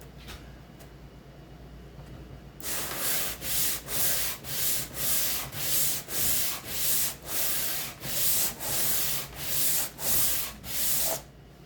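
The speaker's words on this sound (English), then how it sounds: "I'm just holding a circular pad thing I had. 150 grit. I just hold it on there." Hand sanding of a guitar fretboard with a 150 grit circular pad, about a dozen even, rhythmic rasping strokes in quick succession after a quiet start, close and distinct.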